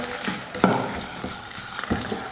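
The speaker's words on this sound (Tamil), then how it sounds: "வரமிளகாய் போட்டு நல்லா வதக்கியாச்சு" Dried red chillies and onion sautéing in a pan for a dosa chutney, giving a steady soft sizzle with a few stirring scrapes and clinks throughout, no talking.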